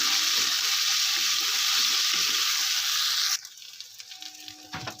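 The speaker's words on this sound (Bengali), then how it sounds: "আর দিয়ে দেবো একটু লঙ্কার গুঁড়ো দিয়ে একটু নাড়াচাড়া করে নেব" Rohu fish curry frying in a pan with chili powder stirred in, giving a loud, steady hiss of hot oil for about three seconds before it cuts off abruptly, followed by quieter clinks and scraping.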